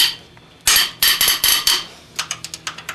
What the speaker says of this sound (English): We're ready to loosen the head bolts.